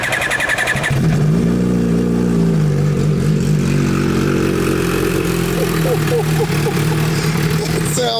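A hyper naked motorcycle engine starts after a brief crank, then settles into a loud, close idle that rises and falls with blips of the throttle, with a voice speaking over part of it.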